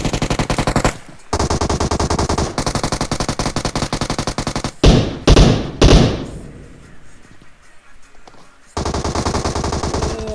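Rapid bursts of video game gunfire crackle loud and close, with long sustained automatic volleys broken by a few heavy single blasts and a brief quieter stretch before the shooting resumes.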